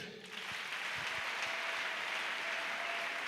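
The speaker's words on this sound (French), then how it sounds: "Acclame Jésus." A church congregation applauds: dense, steady clapping from a large crowd that fills the room evenly for a few seconds, with a faint voice or tone just beneath it.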